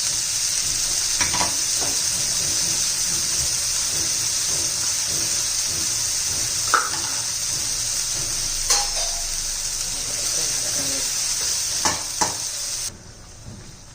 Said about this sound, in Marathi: चांगलं तेल सुटेपर्यंत आपण परतून घेणार आहोत